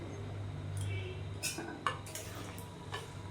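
Fried gathi kochu (taro) pieces added to a pot of half-cooked mung dal, with a few soft clinks and scrapes of utensil against the pot over a low, quiet kitchen hum.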